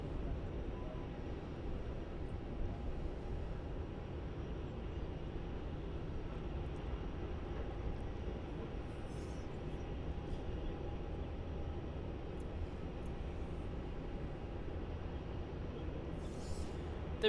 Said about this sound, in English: The Jetstar Boeing 787-8 arriving in from Phuket as JQ18.